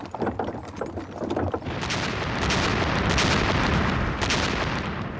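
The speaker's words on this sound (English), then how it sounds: "Huge Soviet artillery barrages and tank assaults were shredding the German lines." Artillery barrage on the Eastern Front in 1943: a dense, continuous roar of heavy guns and explosions that swells after the first seconds into a loud, sustained rumble with repeated booming bursts layered on top.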